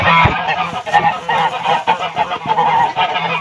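Mammoth breed geese honk loudly and repeatedly at close range while eggs are gathered for incubation, a dense chorus of harsh calls overlapping with brief low thumps.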